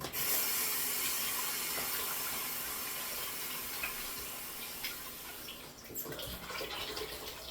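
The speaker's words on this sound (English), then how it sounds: "Now, we'll wash my hands." Steady running tap water splashing into a sink as hands are washed, a continuous broadband hiss with a few faint clicks, no talking.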